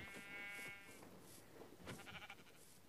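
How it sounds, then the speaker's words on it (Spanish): Sheep bleating in Minecraft, a wavering harmonic bleat near the start and another later, fairly quiet over a low game ambience with no talk. "¿dónde están las ovejas que estaban aquí?"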